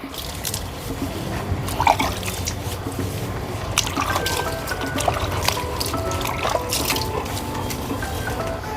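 Diluted apple cider vinegar water trickles and splashes steadily over a dog's coat during a bath, a continuous close wet pattering with small drips.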